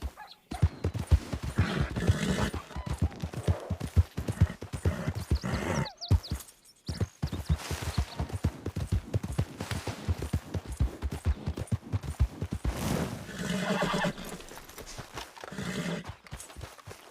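A called horse in a video game trots in with rapid, close clip-clopping hooves and whinnies, the rhythmic hoofbeats running almost continuously with a few sharp bursts among them.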